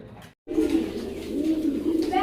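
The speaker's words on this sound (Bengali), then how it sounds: "একজোড়া বোম্বাই কবুতর" A pair of Bombay pigeons coos in a soft, continuous, throaty burble right up close, after a brief silent gap, with a voice faintly present.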